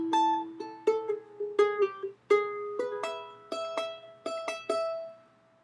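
Charango plays the first phrase of a song, a sequence of about a dozen plucked notes that alternate between open and fretted strings, each ringing bright and close and then decaying, with no voice.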